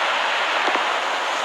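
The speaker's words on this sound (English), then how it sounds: "Still raining." Rain falls in the horror video game Eleanor's Stairway during a dark, stormy night, a steady loud hiss of downpour with no voices and no break.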